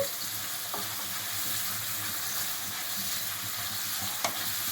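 Curry leaves fry and get stirred in hot oil for an egg masala curry, a steady dense sizzle with an occasional utensil tap against the pan, no talking.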